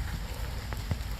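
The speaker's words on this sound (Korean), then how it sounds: "지금 비가 오거든요" Steady hiss of rain falling outdoors, with a couple of faint patters of drops on a surface and no talking.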